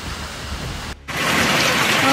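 Heavy rain and hail during a violent storm in Milan roar as dense, steady broadband hiss, briefly cut off for a moment before returning louder and continuing without pause.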